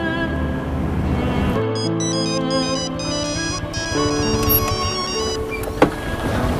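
A phone ringtone plays as a call goes out to a girlfriend, a bright melodic electronic tune repeating steadily over a continuous background hum, with a brief sharp knock near the end.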